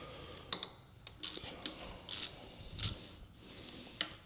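A 5mm hex bit working a rear wheel bolt on a Riese & Muller Load4 75 cargo e-bike, a series of short, sharp metallic ratcheting clicks and brief grinding bursts, close and isolated.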